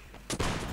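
Rifle fire in the Mount & Blade: With Fire and Sword game, a sharp report followed closely by a second burst of shots and a rumbling tail, moderately loud with no talking.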